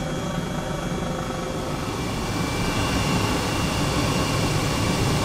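A steady, loud H135 helicopter engine and rotor drone in the Microsoft Flight Simulator video game, continuous and unchanging, with no voices over it.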